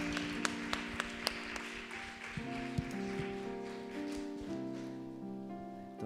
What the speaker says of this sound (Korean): 나오실 때 박수 좀 부탁드릴게요